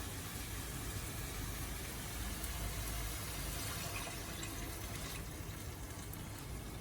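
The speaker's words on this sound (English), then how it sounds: "now let us add some water" Water pours into a pot of rasam with cooked tomato, a steady, faint rushing hiss that runs unbroken for several seconds, with no talking.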